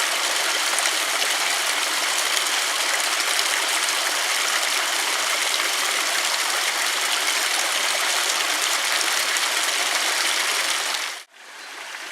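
A forest stream in the Dauphiné, swollen after heavy overnight rain that caused a bank collapse, rushes with a steady, dense roar throughout before cutting off abruptly near the end.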